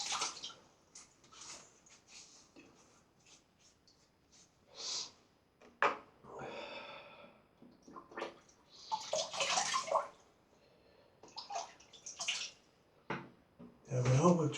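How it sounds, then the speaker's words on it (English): A shaving brush is wetted under running tap water in bursts of splashing and trickling, close and intermittent with quiet gaps between. "we'll just wet the brush"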